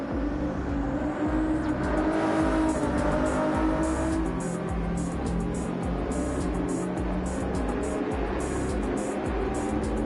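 A yellow-liveried Ferrari race car engine drones steadily in a racing video game around Barcelona, a continuous loud roar with shifting pitch that holds for the whole stretch.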